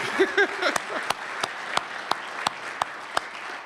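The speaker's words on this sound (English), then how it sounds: "Applause for you." Applause at a city presentation tapers off into a handful of sharp, scattered individual claps spaced out over several seconds, following a brief spoken voice at the start.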